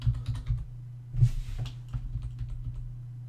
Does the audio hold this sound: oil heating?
no